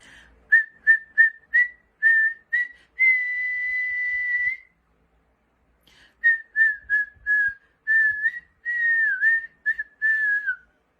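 A single person whistles a melody up close, short clipped notes then a long held tone, a pause, and more phrases of the tune.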